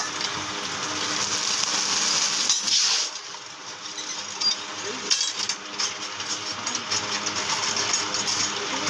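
Rice coated in gram flour is fried in a pan or wok, with a steady hiss and crackle under repeated metallic scrapes and rattles of stirring, loud and close.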